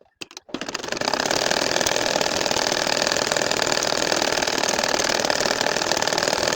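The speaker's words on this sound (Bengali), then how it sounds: "এখন এই লাইনটা আমি তোমাদেরকে সেলাই করে দেখাবো" A domestic sewing machine runs steadily, stitching a nakshi kantha quilt. After a brief start there is a close, continuous mechanical whir with a fast, even rhythm that holds at the same level to the end.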